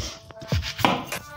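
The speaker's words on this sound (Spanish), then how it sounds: "picando la cebolla." An onion is chopped on a cutting board while making cream of broccoli soup. A handful of close, irregular knife thuds and scrapes sound alone, without talk.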